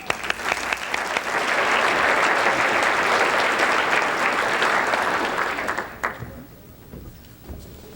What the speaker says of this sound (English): A little round of applause for them.